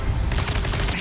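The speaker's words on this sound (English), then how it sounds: "Machine gun webs." Rapid bursts of Spider-Man's machine-gun web shooters in a video game, a dense, loud stream of repeated firing pops over a low rumble, with no talking.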